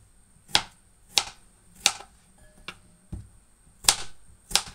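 A knife chops food on a cutting board in a home kitchen while breakfast is prepared, giving about seven sharp, evenly spaced taps close up against a quiet background.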